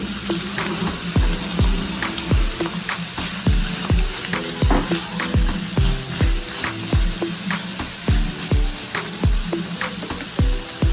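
Carrot, asparagus and mushrooms cook in a Saladmaster electric skillet, a loud steady sizzle with rapid regular clicks and taps running throughout, close by, with no voices.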